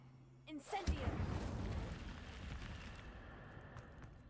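An Incendio fire spell cast in Hogwarts Legacy, a near burst of flame that erupts loudly, then a sustained roaring, crackling rush that slowly fades over several seconds with no talk.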